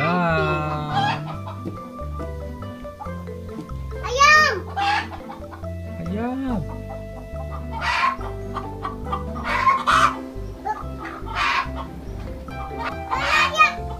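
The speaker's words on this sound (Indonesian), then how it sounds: "Ayam." Free-range village chickens in a laying coop cluck and squawk in scattered bursts, with children's voices and chatter mixed in around the birds throughout.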